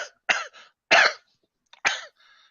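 A voice imitates a dry, racking cough in three harsh, separate bursts with short pauses between them, loud and close, followed by a faint rasp.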